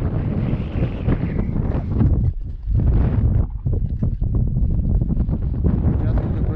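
Strong wind buffeting the microphone on open water during a fishing trip, loud continuous rumbling gusts with brief lulls, while someone talks.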